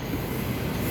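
A Perth suburban passenger train pulls away from a station platform, a loud close rumble of wheels and rolling stock with a steady rail hum and faint squeal, no voices.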